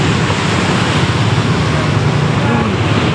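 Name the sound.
sea waves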